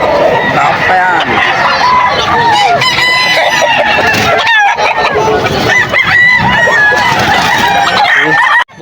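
Roosters and gamecocks at a busy pet market crow repeatedly and overlap with clucking, loud and close, while a crowd of people talks throughout.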